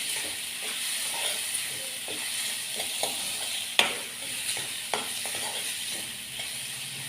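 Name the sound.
sautéing ingredients in a pan for sandwich filling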